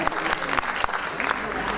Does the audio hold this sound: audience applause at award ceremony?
yes